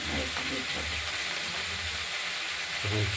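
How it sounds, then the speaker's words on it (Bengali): Chopped onion stalks sizzle steadily in hot oil in a kadai, a continuous loud frying hiss with occasional scraping stirs, briefly under a speaking voice near the end. "কলিগুলো সব দিয়ে নিই তারপর নাড়াচাড়া করবো গরম তেলের সঙ্গে"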